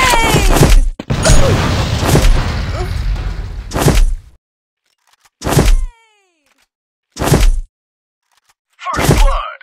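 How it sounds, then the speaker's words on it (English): Several booming grenade blasts in a mobile shooter game, each a loud, short burst separated by silence, the first ones following tightly on each other. "Grenade!"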